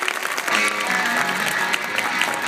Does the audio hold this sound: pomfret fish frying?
no